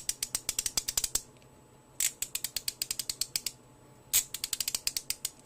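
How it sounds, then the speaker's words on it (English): Neilsen 3/8 inch drive multi-angle quick release ratchet with a fine 72-tooth mechanism, clicking in fast, close, crisp bursts of rapid ticks separated by short pauses, with no talking. "the ratcheting mechanism is 72 teeth"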